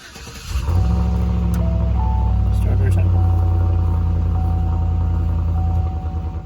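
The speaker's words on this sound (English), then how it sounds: "So here we go, fire it up." A Chevrolet Silverado or GMC Sierra pickup truck engine cranks and fires up after a throttle body cleaning, then settles into a loud, steady idle rumble that continues to the end.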